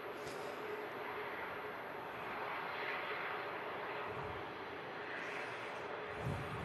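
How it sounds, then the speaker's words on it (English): Boeing 787-9 Dreamliner engines at Manchester Airport in thick fog, a steady broad roar at moderate distance that holds level throughout, with no talking. "787-9 Dreamliner Whiskey Papa, 6-year-old airframe, first registered in November 2018."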